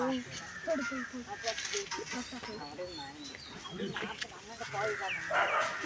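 A puppy gives several short barks and yelps while people talk nearby, with birds chirping faintly in the background.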